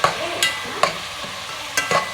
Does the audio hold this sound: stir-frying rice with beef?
yes